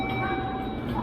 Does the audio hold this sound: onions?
no